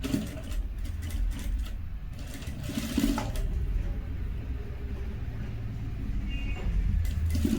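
A sewing machine stitches lace onto a kameez shirt, giving a continuous close, busy mechanical whir with small rattles and shifts in intensity. No speech is heard.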